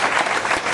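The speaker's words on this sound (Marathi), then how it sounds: "त्यामुळे आपण कंपनीसाठी एकदा जबरदस्त टाळ्या वाजवू शकता." Audience applause at a company presentation, a short dense burst of clapping from many hands, fairly loud and steady throughout with no voices.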